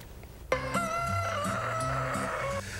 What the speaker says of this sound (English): Welcome to the annual rooster crowing competition at the Minnesota State Fair.